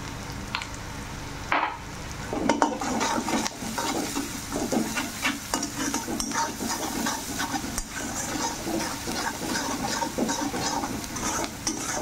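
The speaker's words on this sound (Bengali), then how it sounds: "পেঁয়াজ রসুনের কাঁচা লঙ্কাকে ফ্রাই করে নেব।" Onion, garlic and green chili frying in a pan, with continuous close sizzling and repeated stirring scrapes against the pan, occasional sharper clinks.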